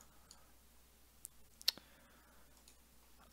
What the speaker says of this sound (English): I'm going to click sign up.